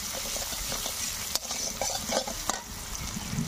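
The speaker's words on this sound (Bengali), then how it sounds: "দিয়ে ভালো করে নাড়িয়ে নিচ্ছি।" Onions and cumin sizzle steadily in a hot pan for a chicken curry, with a spoon scraping and stirring through them and a few sharp clinks against the pan, close and continuous.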